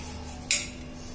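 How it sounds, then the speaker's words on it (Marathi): A single sharp knock of a knife cutting through a block of jaggery, heard once against quiet kitchen background, with no talking. "गुळ चिरून घेते आपल्याला लागेल तेवढा गुळ घ्यायचा"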